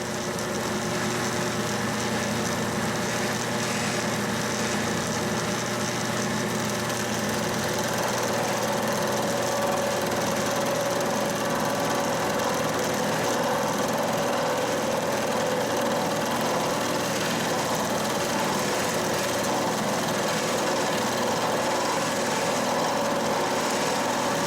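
A milling machine cuts the teeth of a spur gear, giving a steady, loud mechanical drone with a sustained whine and rumble that runs unbroken throughout, with no talking.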